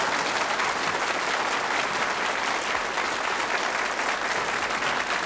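Studio audience applause on a German TV variety show, steady dense clapping that holds evenly for several seconds, close and full, with no talk over it.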